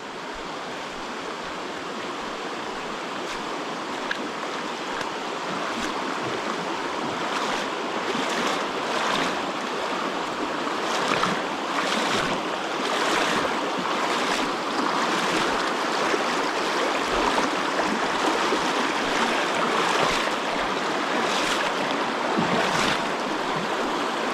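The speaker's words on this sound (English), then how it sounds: "So we got a little water crossing." Steady rushing water flows continuously and fairly close at a trail creek crossing, a broad wash of creek noise with small splashy surges and no voices.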